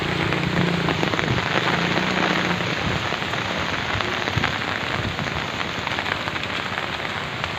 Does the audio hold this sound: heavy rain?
yes